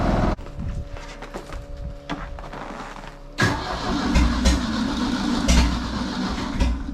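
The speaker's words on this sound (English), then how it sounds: "I can just start the skid loader, pull it around with that" A skid loader's cold engine cranks and then catches near the mic, turning into a loud, rough idle with uneven surges.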